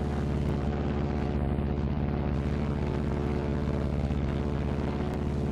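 Steady droning propeller engine hum from a Martin B-26 Marauder flying on a single engine, a low, even throb, continuous and close, no voices.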